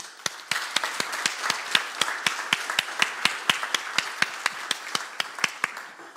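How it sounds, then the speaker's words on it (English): A handful of audience members at a poetry gala clap for the poets, sparse individual claps landing in a loose, steady rhythm at moderate loudness with no voices over them. "we ask for a huge round of applause, please, for all our poets"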